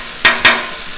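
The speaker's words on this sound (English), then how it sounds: "Mix all that garlic in." Garlic being stirred into a pan of frying onion, three sharp close scrapes of a utensil over a quiet sizzling background.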